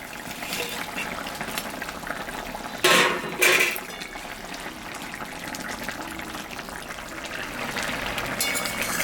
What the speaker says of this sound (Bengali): ঢাকাটা আমি তুলে নিলাম ঝোলটা ফুটে গেছে